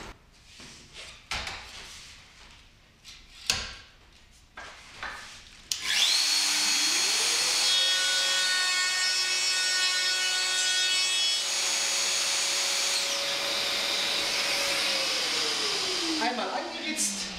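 Festool router cutting wood right to left along a shop-made guide bar, a loud sustained high-pitched whine that spins up, holds steady under cutting noise for about ten seconds, then winds down, after some softer handling knocks.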